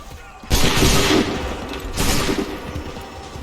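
Gunfire volley in Assassin's Creed 3: two loud bursts of massed musket fire, the first erupting sharply and rolling on for about a second, the second following after a short lull, with a low rumble of battle underneath.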